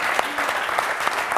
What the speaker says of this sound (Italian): fate un applauso sul moscone